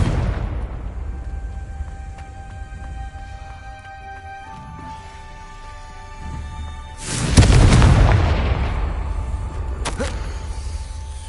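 A Confringo fire spell goes off in the Hogwarts Legacy game: a loud, broad blast around the middle that rumbles on for a few seconds, with a sharper crack afterwards, over steady game ambience.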